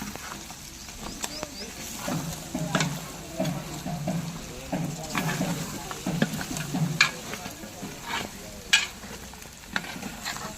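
A spoon stirs chicken fry curry with chili powder in a pan, giving soft scraping and clattering strokes over a low sizzle at an uneven rhythm, close by, with a few sharper knocks against the pan.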